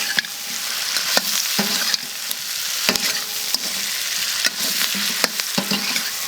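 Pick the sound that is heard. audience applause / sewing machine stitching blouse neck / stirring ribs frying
stirring ribs frying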